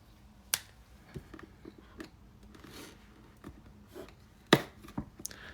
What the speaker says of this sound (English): So I missed another seal here. So I'll need the knife for.